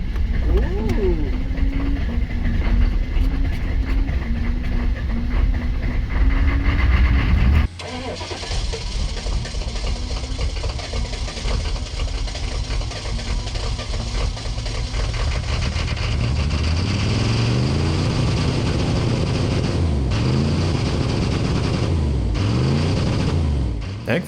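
An old 1-ton diesel pickup cranks and catches roughly, the engine struggling into an uneven, loud rumble that settles into a rough idle with fluctuating revs.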